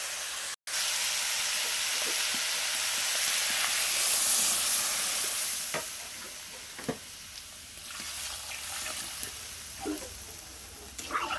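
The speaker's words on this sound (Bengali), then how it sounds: "দেখো এবার জল দিয়ে দেবো।" Water poured into a hot pan of curry hisses and steams loudly at first, then the sizzle gradually subsides into a quieter simmer with scattered clinks and small bubbling pops.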